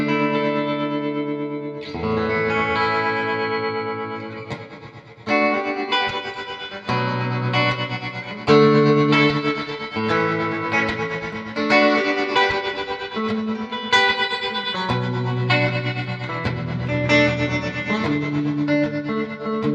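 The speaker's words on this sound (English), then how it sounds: "And here is the trem modulated mode on the Procession Reverb." Fender Jaguar electric guitar, mic'd with a Sennheiser E906, played through an Old Blood Noise Endeavors Procession reverb pedal in tremolo modulated mode, sustained chords pulsing with wide wet reverb, loud and continuous with no talk.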